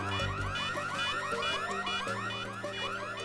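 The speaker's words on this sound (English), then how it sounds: "These alarms are annoying, aren't they?" A warbling, repeating alarm in the video game Plants vs Zombies Garden Warfare 2 cycles steadily through rising and falling tones, loud and continuous over game music, with no talk.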